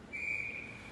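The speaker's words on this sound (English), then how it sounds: "not sure why they blew the whistle there" A referee's whistle at a U12A youth hockey game in Moose Jaw gives one sustained, shrill blast lasting just over half a second over low rink ambience, with no talking.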